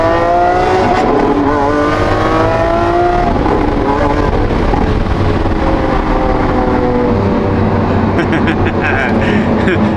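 A Lamborghini Aventador SVJ on cold Alpine roads, its engine note rising and falling steadily as it accelerates and shifts, loud and close for the whole stretch with brief sharp crackles near the end.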